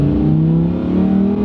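A car engine revs hard in Corsa sport driving mode, a loud, steady, droning roar with a strong low hum that holds evenly throughout.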